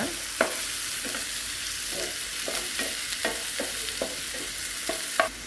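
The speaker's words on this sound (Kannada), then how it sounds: "ಈಗ ಉಳ್ಳಾಗಡ್ಡಿ ಹಾಕೊಂಡು ಚಂದಗೆಲ್ಲ ಫ್ರೈ ಮಾಡ್ಕೊತೀವಿ" Chopped onions frying in a pan while being stirred, a continuous sizzle punctuated by regular scraping strokes of a spatula roughly every half second, close and without talk.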